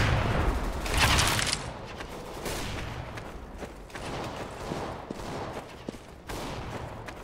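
Bursts of gunfire and explosive booms in CS:GO crackle repeatedly, a chaotic stretch of rapid shots with sharp blasts, loud and dense throughout.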